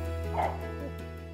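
Dogs at a dog boarding facility, one short bark with a fainter yip after it, distant and quiet over a steady low hum.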